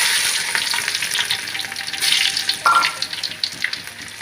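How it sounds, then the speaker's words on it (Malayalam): Hissing, crackling sizzle of mustard seeds hitting hot oil, fairly loud and continuous, with a faint brief clink partway through. "ഒരു അര സ്പൂൺ കടുക് ഇട്ട് കൊടുക്കാം"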